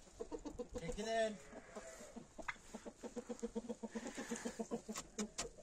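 Young chickens, grown to ordinary hen size, clucking in a farmyard coop, with a loud drawn-out call near the start and steady rhythmic clucks throughout, under someone talking.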